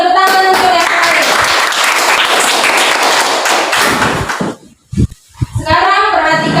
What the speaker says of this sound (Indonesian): Tepuk tangan untuk yang lain